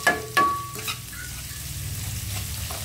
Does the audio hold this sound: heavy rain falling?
no